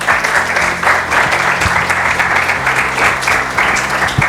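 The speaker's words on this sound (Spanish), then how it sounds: "Un aplauso, por favor." Sustained, dense applause from an audience welcoming a scientific committee speaker at a formal presentation, loud and steady throughout with no voices on top.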